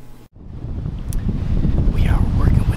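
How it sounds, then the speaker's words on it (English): Strong southwest wind buffeting a microphone high on a far west ridge, a continuous rough roar after a short dropout, building steadily louder toward the end. "Up on this far west ridge, got a southwest wind. Strong one."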